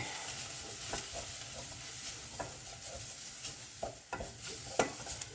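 Onions for French onion soup, dusted with flour, stirred in a pan: a quiet sizzle under irregular scrapes and clicks of the spoon against the metal.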